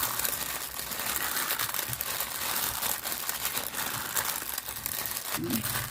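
Hands squeeze and knead vegetables for Lao vegetable soup, a steady close wet crinkling and squishing that continues throughout with faint background noise.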